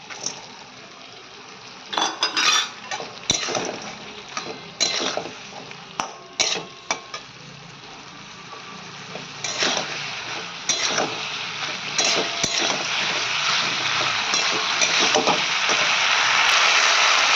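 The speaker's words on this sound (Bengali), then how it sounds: "এবার আমি দিয়ে দেবো চিকেনটা।" Raw chicken pieces tipped into a pan of softened, cooked-down onions for a chili chicken gravy, giving a burst of sizzling and frying with scraping, stirring and clattering of a utensil against the pan, growing steadier and denser toward the end.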